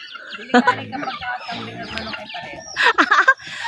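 Hens cluck in short irregular bursts while feeding alongside goats in a rural Philippine yard, a couple of louder clusters standing out, with faint background activity around them.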